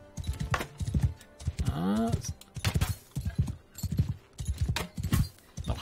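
Hooves beat in a steady galloping rhythm from a ridden horse in Mount & Blade 2 Bannerlord, repeating evenly throughout, with someone talking over them.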